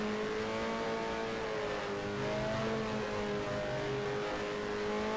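A 1974 Formula 1 car in a racing video game at the Sochi circuit, its engine droning steadily and loud throughout, pitch dipping slightly as it holds second gear through a corner.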